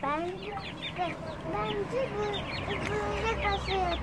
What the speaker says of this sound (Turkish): Şimdi dışarıda civcivlerimiz var bir de bizim. Etlik civcivlerimiz.